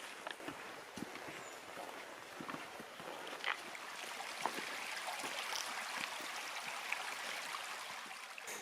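A creek flows beside a forest trail along the South Skokomish River, a steady soft rush of water with faint trickles and occasional small knocks, fairly distant and low in level.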